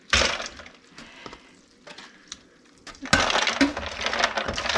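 Blanched okra dropped into a bowl of ice water, with sharp clinks, knocks and rattling of ice cubes in scattered bursts, a quieter stretch in the middle and busier clattering toward the end.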